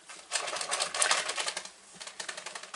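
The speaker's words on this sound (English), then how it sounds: "So the bunny behind me is shuffling her deck." A deck of cards being shuffled nearby, with rapid riffling bursts in two main runs separated by a brief pause, fairly soft and free of talk.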